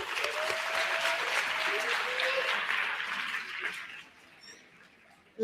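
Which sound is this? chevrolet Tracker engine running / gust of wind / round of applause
round of applause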